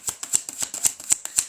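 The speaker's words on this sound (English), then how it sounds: "Learn to shuffle." Playing cards are riffled in quick repeated bursts, about a dozen crisp fluttering snaps in a steady rhythm, close and clear.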